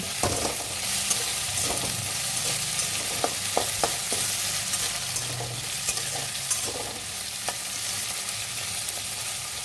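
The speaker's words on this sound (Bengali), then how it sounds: "আলুগুলো দিয়ে দিচ্ছি আলুগুলোকে পুরো লাল লাল করে ভাজবো" Potatoes frying in mustard oil with black cumin in a pan, a continuous loud sizzle broken by repeated sharp scraping and clinking of a spatula as they are stirred, with no talking.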